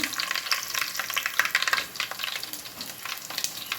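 Garlic and mustard seeds fry in hot coconut oil, a steady crackling sizzle with bright spits and pops running throughout, close and fairly loud, no voices.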